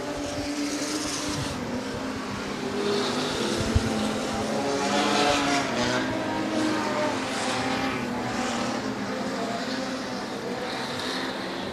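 Super Stocker race cars lap Rockhampton Speedway in a continuous engine roar that swells and fades as cars pass. The droning is loud and unbroken throughout.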